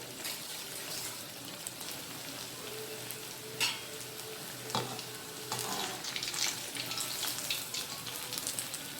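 Three vadas frying in hot oil for a South Indian traditional meal, giving a steady close crackling sizzle with occasional louder pops, no talking.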